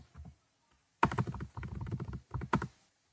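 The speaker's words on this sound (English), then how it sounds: "Then start typing." Bursts of key clicks from a computer keyboard, a short tap followed by a dense, rapid run of typing up close.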